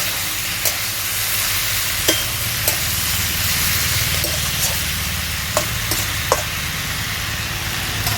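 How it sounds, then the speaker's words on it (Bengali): Vegetables being stirred with a splash of water in a pan while cooking Bengali pui shak chhechra, a steady soft sizzle with a few light scraping clicks of the spoon, close and continuous with no talking. "সামান্য একটু জল, সব কিছু মিশিয়ে নিচ্ছি"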